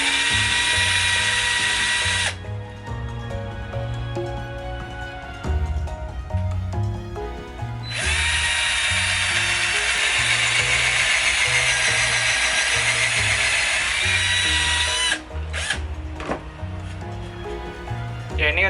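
A power drill bores a hole through a dowel jig in wood, whining in long, loud bursts that start and stop, with a low tonal hum and music or speech running beneath.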